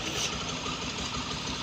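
A Bajaj Pulsar BS6 motorcycle engine idles steadily up close, a continuous even rumble with no revving and no voices.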